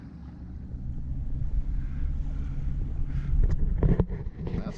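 A Bavaria 41 sailboat runs directly downwind, with steady low rushing water and wind noise on the hull, close and continuous, plus a few brief knocks near the end.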